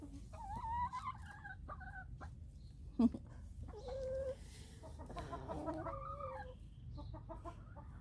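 Several chickens cluck and murmur nearby in a steady farmyard chorus, with one short sharp knock partway through.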